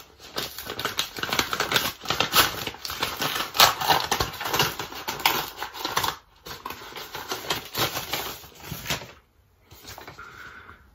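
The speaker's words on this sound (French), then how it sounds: "Nous allons la déballer ici ensemble pour que je vous montre quel type de carte il s'agit." A mailed envelope holding a new bank card is torn and unwrapped up close, with crisp paper rustling, tearing and crinkling in irregular bursts, then a brief pause and softer handling near the end.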